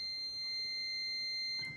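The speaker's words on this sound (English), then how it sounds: "well, I'll start with the 2. The 2s sound like this." A pipe organ's 2-foot pipes sound one high, steady sustained note, thin and whistle-like, held evenly throughout with no talking.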